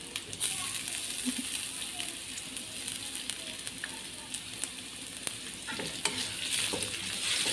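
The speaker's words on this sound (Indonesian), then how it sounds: "Oseng-oseng aja dulu, kita tumis-tumis." Turmeric, garlic and shallots are stir-fried in a pan for Betawi milkfish pindang, giving a quiet, steady sizzle broken by light spatula scrapes and taps, with faint voices in the background.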